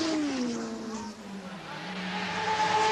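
Racing motorcycles from the 1982 ACU British Championship streak through a left-hand bend toward Lodge on the final lap, engines whining loudly and shifting pitch as they sweep past, with a commentator's voice faintly underneath.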